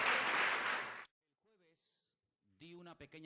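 Congregation applause for a brother in Thailand during a Spanish-language church service, a dense burst of clapping lasting about a second, followed by quiet and then speech.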